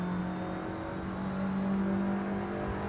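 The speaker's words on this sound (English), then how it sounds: "banging the gears out third. Really revving it out there." A race car engine revs hard in a racing video game on the Long Beach street circuit, a sustained high droning whine with steady harmonic tones, loud and continuous without breaks.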